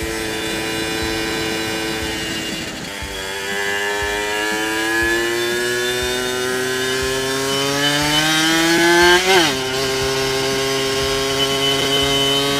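A Honda NSR 50 two-stroke motorcycle riding, its small engine buzzing loudly with strong rising harmonics as it revs, easing, then climbing again, with a sharp gear change near the end.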